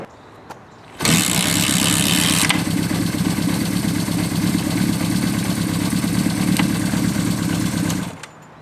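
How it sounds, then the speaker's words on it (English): A mostly original 1974 Honda CB550 motorcycle is kick-started, catching abruptly and settling into a steady, loud idle that runs alone for several seconds before cutting off. "You'll see here he starts it by a Kickstarter."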